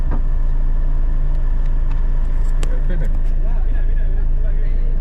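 A rally car at speed on a stage of the 2022 Kihelkonna rahvaralli, a loud continuous roar close by with spectator voices and crowd noise mixed in underneath.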